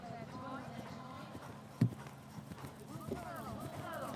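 A horse gallops across an eventing cross-country course with soft, rhythmic hoofbeats at a distance, one sharper thud standing out, while a commentator talks over it.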